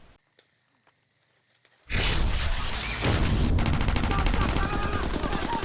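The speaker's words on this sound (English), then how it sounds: "The Roman candle sparks another firefight, this time with muzzle flash, and later with tracer fire" Sustained gunfire from a firefight in the film Alien Origin, loud and dense with rapid bursts after a quiet start, continuing without pause to the end.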